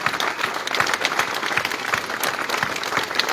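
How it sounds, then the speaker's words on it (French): Warm audience applause at a French family celebration featuring a parade giant: steady, dense clapping from a crowd, fairly loud and continuous throughout, with no talking over it. "Je voudrais vous demander d'applaudir chaleureusement toute l'équipe de Milling."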